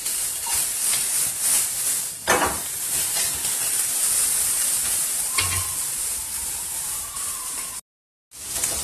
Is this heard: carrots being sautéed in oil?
yes